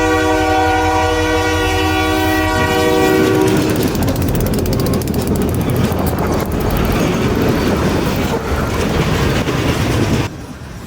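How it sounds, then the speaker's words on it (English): A K&O freight train running from Hutchinson to Wichita sounds a loud multi-chime horn as it approaches, then thunders past close by with rumbling wheels and rhythmic clacking over the rails, the noise dropping away sharply at the end. "This is the daily train from Hutchinson to Wichita, bringing in traffic from the western K&O system for interchange."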